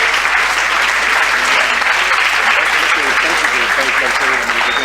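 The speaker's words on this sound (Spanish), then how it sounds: "Un fuerte aplauso para los compañeros que están haciendo la cobertura." Loud, sustained applause from a crowd, dense clapping that holds steady throughout.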